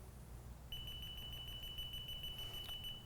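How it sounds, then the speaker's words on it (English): A proximity voltage indicator's single high electronic self-test beep sounds steadily for a couple of seconds over a quiet low hum, ending with a faint click. "There's the beep, so let out."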